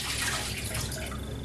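Wild mushrooms are cooled in cold water with a steady, close rush of running water that stays constant and loud throughout.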